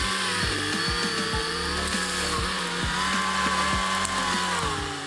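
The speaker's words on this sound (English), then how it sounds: "The Deere 450J bulldozer is having difficulty pushing down the tree due to its complex root system" Deere 450J bulldozer straining to push down a tree with a complex root system, its engine a loud, steady drone with repeated low thumps and creaks of wood throughout, no voices.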